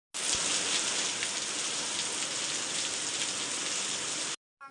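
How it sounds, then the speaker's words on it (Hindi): Heavy monsoon rain pours down in a steady, dense hiss in a mountain village in Uttarakhand, loud and close, cutting off abruptly near the end with a brief patter afterward. "तो आ गई बहुत ज़्यादा बारिश।"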